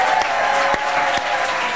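A live comedy show audience applauds in a short, dense burst of steady, close clapping that fills the room without letting up.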